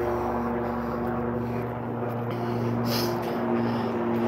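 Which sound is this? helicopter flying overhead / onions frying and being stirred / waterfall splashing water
helicopter flying overhead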